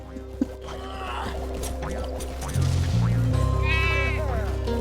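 Sheep in the Skylanders Giants video game bleat in several wavering calls over steady game music and ambient hum, the bleats loud and close near the end.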